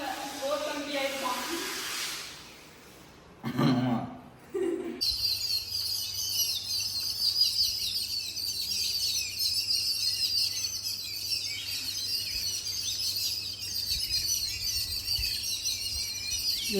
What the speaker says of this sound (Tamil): ஏ குருவிங்களா ஏன் கத்துறீங்க?